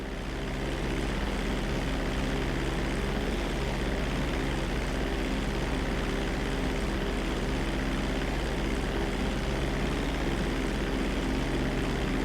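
Propeller airplane in Grand Theft Auto 5 throttling up for takeoff, a loud continuous engine drone with a steady buzzing propeller tone that swells briefly at the start and then holds constant.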